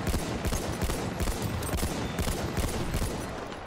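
Rapid bursts of gunfire in Battlefield 1 on Operation Suez, a dense fusillade of close, loud shots rattling continuously with no talk.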